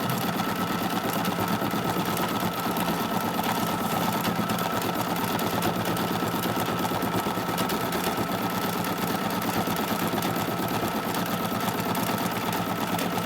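A sewing machine runs steadily throughout, stitching a Kimberbell quilting design of little stockings on lines, a continuous dense mechanical whir with a rapid needle rhythm and no pauses.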